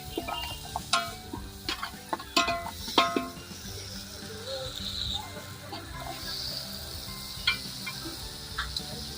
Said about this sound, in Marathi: सगळ्या भाज्या आता एकदम वाटणामध्ये परतून घ्यायचंय.